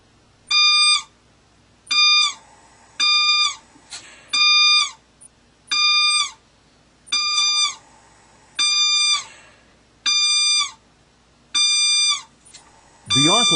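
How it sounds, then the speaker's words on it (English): A ventilator's low-pressure alarm: high, harmonic electronic beeps in regular bursts of about a second, roughly ten pulses with short gaps, loud and steady, ending with a brief noisy thump. "a low-pitch audible oscillating alarm will sound"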